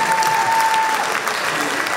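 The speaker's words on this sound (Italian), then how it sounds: "Un applauso alla seconda serie" Steady applause from an Italian event audience greeting the arrival of the second group, loud and dense throughout, with a faint steady tone under the first half.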